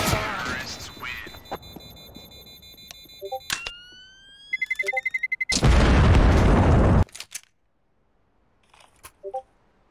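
A bomb explodes in the CS:GO Wingman mode, a loud burst of broadband noise lasting over a second, set among game effects, tonal beeps and brief rising chirps, then falling into near silence.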